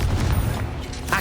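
Confringo and Bombarda spell blasts from the Hogwarts Legacy video game, dull booming impacts and rumbling bursts over a busy combat backdrop, close and fairly loud.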